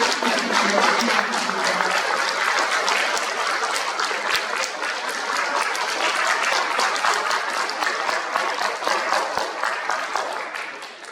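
An audience at a peace and unification lecture event claps for an honored pastor: dense, steady applause of many hands, loud and sustained for about eleven seconds before tapering slightly at the end.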